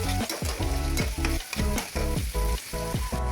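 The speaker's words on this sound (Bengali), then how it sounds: "এবার প্যানে কিছু তেল দিয়ে পেঁয়াজ আর কতগুলো রসুন দিয়ে দেবো" Onion and garlic frying in oil in a pan, a continuous close sizzle broken by rhythmic scraping and stirring strokes roughly every half second.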